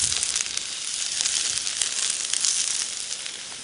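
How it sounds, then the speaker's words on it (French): Courgette sizzles on a hot plancha griddle, a steady, bright frying hiss that holds loud and even throughout without any voices. "On va laisser tranquillement notre courgette cuire"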